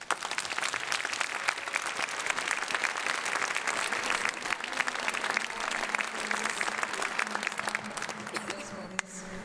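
A concert audience at a choir's Christmas concert applauds composer Ēriks Ešenvalds, a dense, steady clatter of many hands clapping for about nine seconds, fading slightly at the end, with a voice faintly audible underneath.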